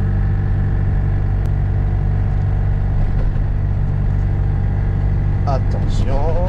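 A Ligier JS60 microcar engine revs up as it accelerates to 50 km/h, a loud, rising motor drone with road rumble close by.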